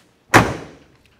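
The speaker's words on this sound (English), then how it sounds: "when I open up the passenger door." A single sharp thunk of a 1971 Chevrolet Chevelle SS passenger door opening, close and loud, fading quickly into silence.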